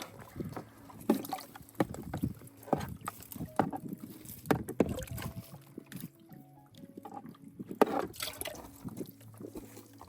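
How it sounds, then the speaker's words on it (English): Water sloshing and splashing in a gold pan in short, irregular bursts while panning for gold in Gold Hill, Nevada, with scattered clinks and rustles, close by and fairly quiet. "Let's go ahead and pan it down a little more."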